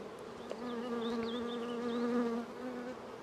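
Honey bees buzz in a dense, steady drone during an inspection of an aggressive hive, close and continuous, swelling slightly before easing off near the end.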